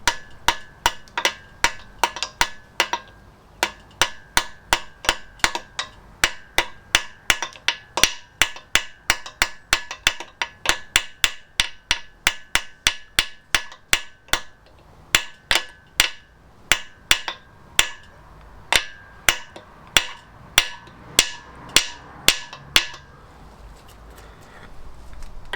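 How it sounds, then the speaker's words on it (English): Steady light tapping of a small hammer driving a key in on a classic Fiat 500 engine, dozens of sharp, evenly spaced taps on metal that slow slightly before stopping. "Got a tiny little hammer,"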